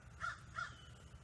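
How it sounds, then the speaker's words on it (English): A crow caws twice in quick succession, two short, faint, hoarse calls about a third of a second apart, heard alone against a quiet background. "Crows always caw the same"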